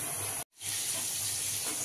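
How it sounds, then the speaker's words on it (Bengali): Paneer cubes frying in oil in a pan hiss with a dense, steady, close sizzle that cuts out for a split second and then resumes just as strong, with no voices. "পনিরগুলোকে এখানে সুন্দর করে আমরা ভেজে নেব"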